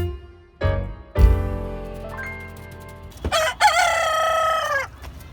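A rooster crows loud and close, two long drawn-out calls separated by short clucking and scuffling sounds. No voices are heard.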